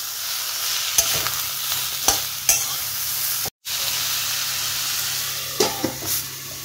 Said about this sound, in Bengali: এটা কোনো জল টল পড়বে না, জাস্ট একটু অল্প নুন দেবো, এটা ভাজা হবে।